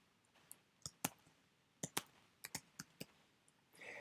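Scattered keystrokes tap on a computer keyboard, about a dozen sharp, quiet clicks in an uneven rhythm with short pauses, heard alone in a quiet room.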